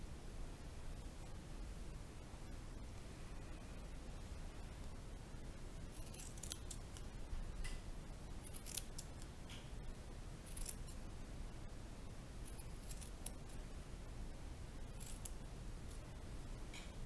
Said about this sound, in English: So now we're going to show with scissors.